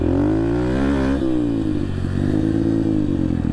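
Yamaha TTR 125 dirt bike with an FMF exhaust revving up and down, a loud, close single-cylinder engine note with rising and falling pitch, alone without talk.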